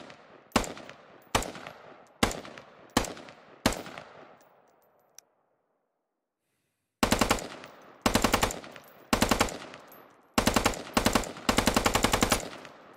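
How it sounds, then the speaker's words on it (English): A QBZ-95-1 bullpup rifle firing in the game Squad: five sharp single shots with decaying echoes, a pause, then several loud rapid bursts of full-auto fire, close and alone. "The PLA base rifle is the QBZ-95-1. It has a 30-round magazine and can fire semi or full auto."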